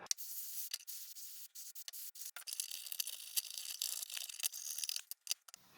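Scrubbing sludgy residue off an IBM System x3650 M2 server, quick close bristly rubbing strokes in uneven bursts with short gaps, fairly quiet, no speech.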